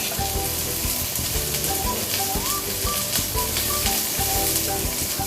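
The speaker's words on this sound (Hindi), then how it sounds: "अब हम हरी मिर्च, प्याज, लहसुन, अदरक इन सभी को अच्छे से सौते कर लेते हैं।" Green chilies, onion, garlic and ginger sautéing in a pan, giving a loud, steady sizzle and crackle with some stirring throughout.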